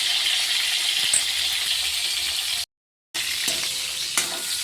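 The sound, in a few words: salted pointed gourd (potol) frying in oil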